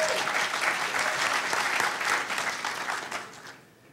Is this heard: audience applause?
yes